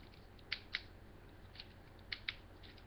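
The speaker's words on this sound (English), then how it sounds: "Some nice ratcheting." A plastic joint on an FOC Bruticus transformer toy ratchets in quiet clicks, first a pair of clicks, then a faint one, then another close pair.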